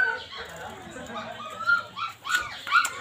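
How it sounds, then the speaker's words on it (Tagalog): A dog outdoors among trees gives a few short barks and yips, rising in the last second or so, mixed with background chatter and ambient noise. "Pag nakita naman ako ng aso, tinatahol ako."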